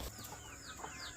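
Backyard chickens clucking softly in a brief, faint burst of a few bird calls over quiet background noise.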